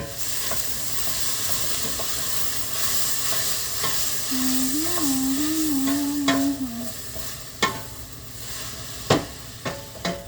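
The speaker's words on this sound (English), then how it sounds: "now we're going to stir that up." Curry chicken being stirred in a pan, with scraping and clinking of the utensil over a steady background sizzle and a brief whistling tone midway; a few sharper knocks near the end, no talking.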